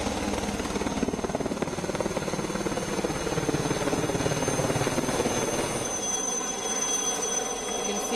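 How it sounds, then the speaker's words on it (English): Steady rotor rumble of an army helicopter with a dense mechanical roar throughout, moderately loud and continuous, with no voices. "Army choppers also being used to survey the area"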